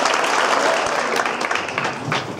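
Audience applause for a junior high jazz band at a holiday concert, a continuous close wash of clapping with a few faint voices mixed in, holding steady for a couple of seconds.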